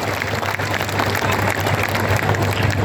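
A crowd at a political gathering applauds a one-lakh-rupee donation with steady, dense clapping that holds at full strength through the whole clip.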